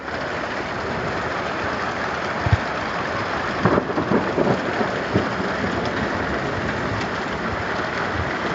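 A summer thunderstorm with steady heavy rain pouring on surfaces, broken by a few low rumbles and cracks of thunder in the middle.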